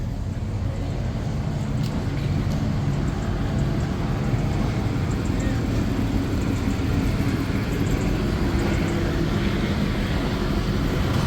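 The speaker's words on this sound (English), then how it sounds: "They done run the fucking helicopter out." Police helicopter flying over a crowded Atlanta street gathering, a continuous loud rotor and engine drone with heavy low rumble holding steady throughout.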